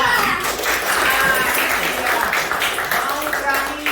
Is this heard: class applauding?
yes